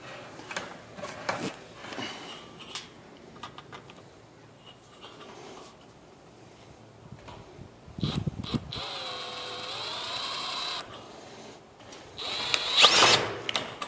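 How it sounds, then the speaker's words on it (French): Power drill driving a self-drilling screw into a metal framing rail, heard as a sustained mechanical whine mid-clip with ratcheting bursts before and after, close and fairly loud, no talking. "Et tu viens y visser le rail par-dessus comme ça."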